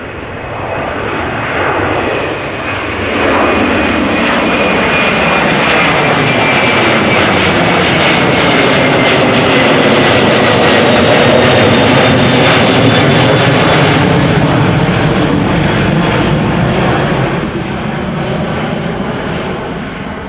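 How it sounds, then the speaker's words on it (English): A KLM Airbus A330-200 jet at Amsterdam Schiphol Airport roars loudly and continuously with a broad engine rumble and a high whine, swelling and holding for many seconds, and no voices. "KLM flight 675, A330-200, 18 years old, first flight July 2005."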